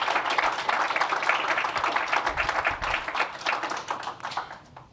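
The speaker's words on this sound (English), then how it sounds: "So please join me to give a round of applause to Dr." Audience applause at a lecture event, many hands clapping in a dense, crackling patter that holds steady, then thins and fades toward the end.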